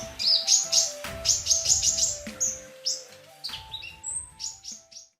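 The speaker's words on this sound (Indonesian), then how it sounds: "Beo dan suaranya." Hill myna calling, a series of bright, piercing whistles and chirps in quick bursts, some clustered in rapid trills, close and clear with no talking.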